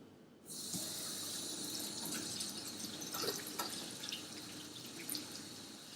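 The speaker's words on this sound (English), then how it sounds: "I'm gonna wash my hands first." Hands washed under a running kitchen tap, a steady close hiss of water that begins abruptly and keeps flowing, with small splashes and shifts as the hands move in the stream.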